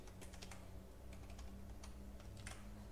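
Steady typing on a computer keyboard, a run of quick, irregular key clicks close by with no voices, while a page is edited in an ASP.Net application.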